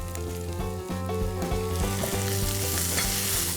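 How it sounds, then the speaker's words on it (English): Chopped tomatoes with ginger garlic paste sauté over high heat, giving a loud, steady sizzle and crackle with stirring scrapes, while tonal music plays underneath and no one speaks. "we're going to saute these till the raw flavor from the ginger and garlic is gone"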